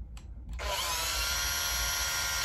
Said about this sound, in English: This determines the direction in which the drill spins.